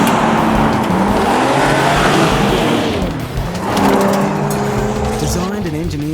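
Nissan 370Z fitted with an XFORCE exhaust, a loud, close engine roar with rising revs and tonal sweeps throughout, dipping briefly midway before climbing again.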